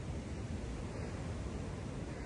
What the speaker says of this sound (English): Lots of wind that I'm sick of, honestly, and totally socked in with fog.